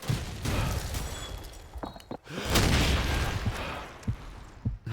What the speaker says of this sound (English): Nades are landing on the top of a building there.